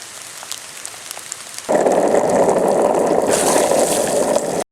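Steady rain pours onto a hard surface outdoors after a wet skating session, cutting in abruptly partway through as a loud, dense hiss that holds until the end, with no voices.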